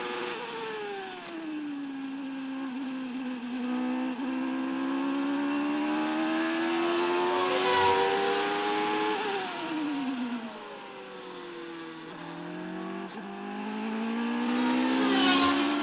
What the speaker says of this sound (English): we're in car now. Listen to the engine.